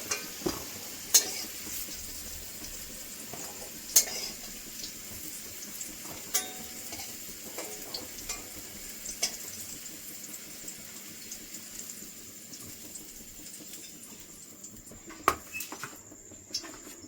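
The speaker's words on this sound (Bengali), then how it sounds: "পেঁপেটাও ভেজে নেব।" Raw papaya pieces frying in a pan for a vegetarian curry, a soft steady sizzle with occasional sharp clicks and scrapes of stirring, fairly quiet and close.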